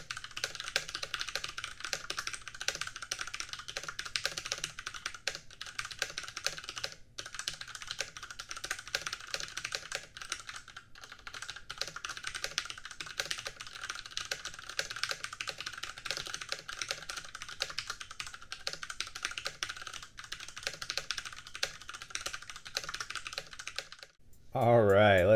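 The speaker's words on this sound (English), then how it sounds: "so you guys can get an idea of how these Cherry MX Brown switches sound" Continuous fast typing on a HyperX Alloy FPS mechanical keyboard with tactile Cherry MX Brown switches, steady rapid clacking throughout, close up, with a brief change near the end.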